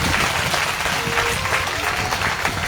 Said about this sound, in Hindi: बजाओ ताली इसके लिए।